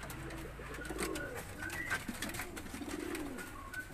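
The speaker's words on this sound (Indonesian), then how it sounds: "merpati balap sprint" Racing pigeons bred for sprint coo softly in a loft, several low rolling calls overlapping with faint rustling around them.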